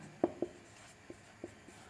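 Pen writing on paper while working a class 10 mensuration math problem, heard as a few faint scratchy strokes, two short marks near the start, then sparser light touches, all quiet with no talking.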